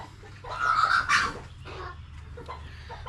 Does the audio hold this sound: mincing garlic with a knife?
no